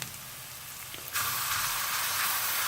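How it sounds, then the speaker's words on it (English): Finely chopped small onions frying in a pan, a steady broadband sizzle that jumps louder about a third of the way in and then holds as continuous close hiss with no talking. "Let's add 2 really quite small onions, very finely chopped for speed of frying."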